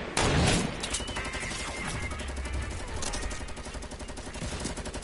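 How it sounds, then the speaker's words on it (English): Rapid bursts of gunfire in a Fortnite-style shooter game, sharp repeated shots and automatic fire crackling over a busy game soundscape, loud and close with overlapping impacts. "Who's shooting us?"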